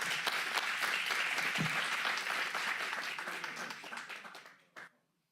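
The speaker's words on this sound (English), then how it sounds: "Let's give her a round of applause." Audience applauding a speaker at a Sutter County Board of Supervisors meeting: a dense, steady round of clapping that fades out over the last second, with one last clap near the end.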